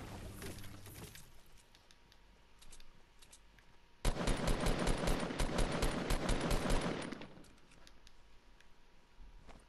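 Rapid bursts of gunfire in the video game Fortnite, shotgun blasts among them, with a sparse scattering of shots followed by a dense, loud volley of several seconds that then dies away.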